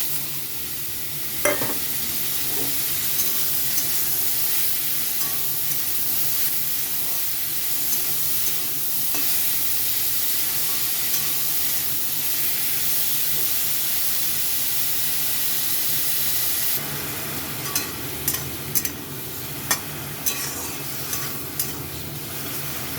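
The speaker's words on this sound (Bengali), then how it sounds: "তো এখন আমি মাশরুমগুলো ভেজে নিচ্ছি।" Mushrooms frying in hot white oil in a wok, a continuous soft hiss and sizzle broken by a few sharp stirring clinks and scrapes, close up with no speech.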